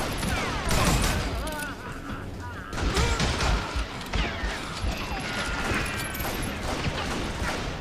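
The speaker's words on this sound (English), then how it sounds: "Who's shooting at us? We're under fire!" Chaotic gunfire in Call of Juarez: Gunslinger, rapid overlapping shots and crashes in a loud, sustained barrage, with a voice shouting in the middle of the fire.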